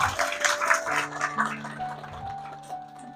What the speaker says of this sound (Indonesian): Ya, tepuk tangan Lagadar.